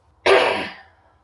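A single short, rough throat clearing close by, rising abruptly and trailing off within about half a second, with silence around it.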